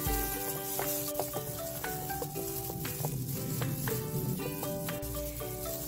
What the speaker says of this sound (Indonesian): Akan saya aduk putih telurnya.